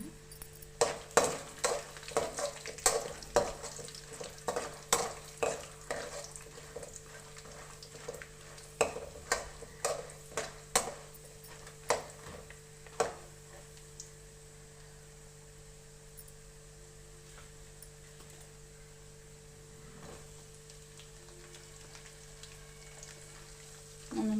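Chana dal and dried red chillies fry in hot oil for tamarind pulihora, with a steady sizzle under frequent sharp spoon-against-pan stirring clatters that fade after the first half, leaving the quiet crackle of the oil alone.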